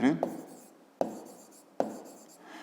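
Pen or pencil writing on paper while working a fifth-grade geometry exercise on segment lengths, three sharp taps with soft scratching strokes between them, close and quiet, with no voice over it.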